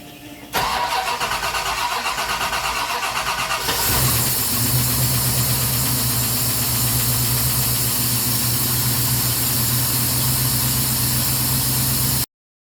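A 1964 car engine cranks with a rhythmic starter churn for a few seconds, then catches and settles into a steady, loud, close idle that runs until the clip cuts off abruptly.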